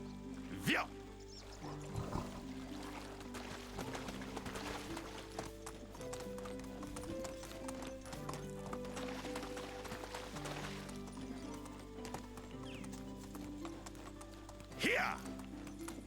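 Horse hooves clip-clop at a steady trot across ground in the medieval game Medieval Dynasty, a quiet rhythmic patter with a couple of louder snorts or whinnies layered in.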